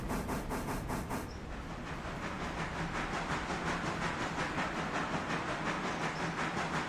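An EMD F7 diesel locomotive train rolls past close by with a steady, loud rumble and continuous rhythmic clatter of wheels over rail joints.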